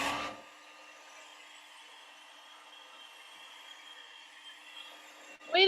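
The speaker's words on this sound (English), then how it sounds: "Another cool thing we can look at is hair dryers. This is probably going to be loud" A hair dryer blowing during a virtual classroom demonstration: a steady, even whooshing whir that holds for about five seconds between brief clicks at the start and end, heard alone at moderate volume.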